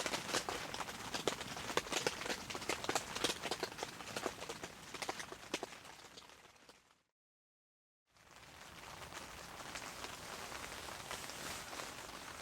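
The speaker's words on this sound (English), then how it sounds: "just listen to the rain and go to bed" Steady rain patters densely on a taut tent surface nearby, with scattered heavier drops tapping; the sound cuts out briefly and then resumes.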